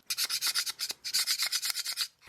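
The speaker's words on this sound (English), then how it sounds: "This is a carbide scraper I use for prepping gasket surfaces." A carbide scraper rasps across a gasket surface during a John Deere 1010 engine repair, with about twenty quick, even back-and-forth strokes in two bursts, close and clear with no talk.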